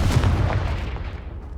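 A Confringo fire-blast spell in Hogwarts Legacy erupts as a heavy, rumbling explosion, loud and close, with a booming low roar that slowly decays over its short span.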